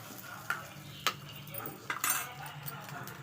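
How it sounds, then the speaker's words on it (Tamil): Mustard seed tempering is stirred in a pan: a soft sizzle runs beneath a few sharp utensil scrapes and clicks against the metal, quiet and close. "நல்லா அதை கிண்டி விட்டுறணும்."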